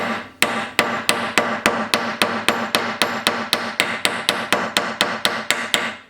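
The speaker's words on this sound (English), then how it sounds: "You just hammer it in." A hammer strikes steel wire into an inlay channel cut in steel, giving about sixteen sharp, evenly spaced metallic taps at a steady brisk rhythm, close and clear with no talking.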